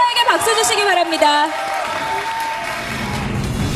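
Audience applause for Taro at a magic show in Japan rises under a voice speaking over it, then continues as a steady clapping wash.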